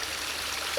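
A garden stream flows into a pond, producing a steady, close broadband rush of running water with no voices.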